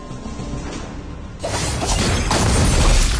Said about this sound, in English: Destroyed a tower.